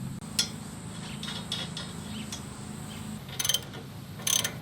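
A hand ratchet tightens upper control arm bolts on a vehicle suspension, giving a few quick, close bursts of clicking over a steady low hum of background machinery.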